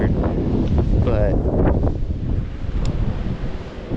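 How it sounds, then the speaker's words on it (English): Strong wind gusts roar across a microphone at an outdoor campsite with a tent, trailer and Jeep, a steady loud rumble rising and easing in waves. "we can't cook outside, it's too windy"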